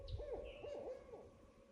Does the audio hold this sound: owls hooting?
yes